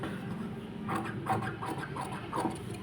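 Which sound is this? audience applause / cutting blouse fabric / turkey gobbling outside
cutting blouse fabric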